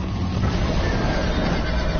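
A horse whinnies in Minecraft Story Mode during a frantic chase on horseback, the neigh sitting inside a dense, steady wash of game sound effects and music with no talk.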